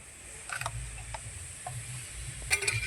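A metal spatula stirs and scrapes in a cooking pot of boiling water with soda while taro is being cooked, giving a few soft scraping and clinking strokes over a steady background hiss.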